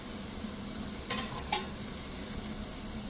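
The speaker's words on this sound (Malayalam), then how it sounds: "ഇനി നമുക്ക് നന്നായിട്ടെല്ലാം ചേർത്തിട്ട് ഇളക്കി എടുക്കാം" Masala powder being stirred into chicken frying in a pan, with a steady soft sizzle, a couple of brief scraping strokes of the spoon, and no talk.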